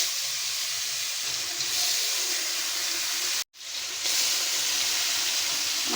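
Koi fish fry in salted hot oil in a large wok, giving a loud, steady sizzling hiss that cuts out briefly midway, then resumes as strongly.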